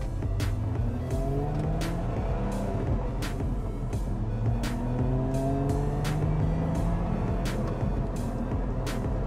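A Lotus Emira sports car pulls away in sport mode, steady engine drone with rising gear tones climbing through the first two shifts, plus regular sharp clicks, continuous and fairly loud with no talking.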